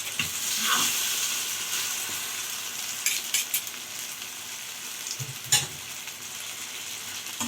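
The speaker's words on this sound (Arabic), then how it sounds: "بعد ما خلاص حسينا الزيت سخن قوي دلوقتي حبه كده نقلبها مع بعض" Beetroot patties fry in hot oil with a steady close sizzle and hiss, broken by a few sharp clatters and scrapes as they are flipped in the pan; no one talks.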